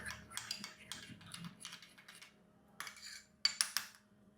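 Turmeric face paste mixed in a small bowl, giving a series of light clinking and scraping taps in short bursts, with pauses between and a few sharper clicks near the end.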